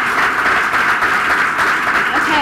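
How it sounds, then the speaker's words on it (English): Loud, close applause fills the room at a team recognition awards ceremony, the dense clapping sustained throughout with a voice mixed faintly in. "I think everyone deserves one more final round of applause"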